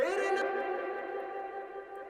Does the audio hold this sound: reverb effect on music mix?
yes